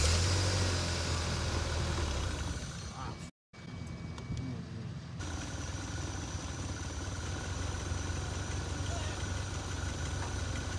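Turbocharged 3SGTE engine in a 1991 Toyota MR2, running after a hose was replaced: a steady broadband engine drone throughout, nearby and fairly loud, with a brief dropout near 3.4 s.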